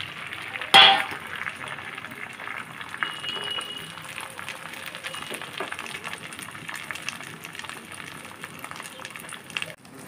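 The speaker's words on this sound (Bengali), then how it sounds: "এভাবে করে আমি আরেকটা ডিমের আমলেটও ভেজে নেব।" An egg omelette fries gently in a pan, giving a soft, continuous sizzle with a sharp clack near the start and occasional light utensil taps.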